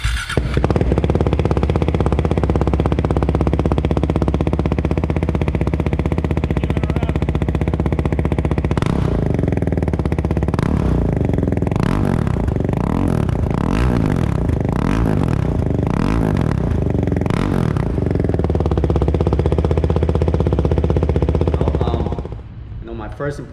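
A Husqvarna Vitpilen 401 motorcycle fitted with a Competition Werkes exhaust starts and settles into a loud, steady idle, with a run of sharp throttle blips in the middle before the engine cuts off near the end.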